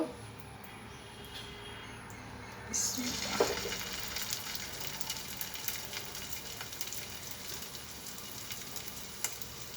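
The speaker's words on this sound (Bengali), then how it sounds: "এখন আমি কাবাবগুলো একটা একটা করে চুলা দিয়ে দিব" Fish roe kebabs go into a hot oiled pan. After a quiet start, a sudden hiss swells into a steady, close sizzle of frying that continues evenly to the end, with faint scattered pops.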